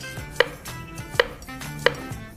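A knife chops taro root on a cutting board with three sharp, evenly spaced thunks, close and clear, set against softer handling noises and with no talk.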